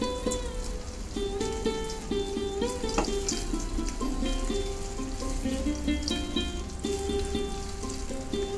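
Fish eggs fry in a pan for a Bengali-style bhuna, crackling and sizzling steadily up close, with occasional clinks and scrapes of stirring and no voices.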